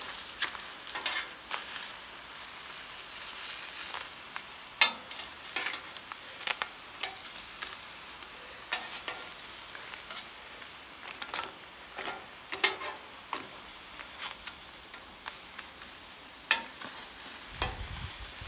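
A lobster grilling in a hot pan sizzles steadily and close, broken by frequent small crackles and spits, with no talking.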